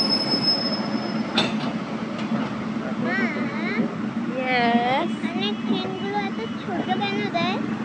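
A train rolls by with a steady rumble while its wheels squeal in rising and falling pitches, and voices murmur in the background.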